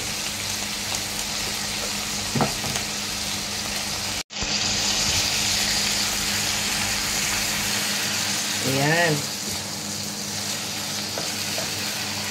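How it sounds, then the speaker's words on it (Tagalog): Chicken sizzles steadily in a hot pan with a continuous crackle while frying for adobo; a brief utensil knock and a short spoken word break in. "Prito-prituhin muna natin guys ng pakonti."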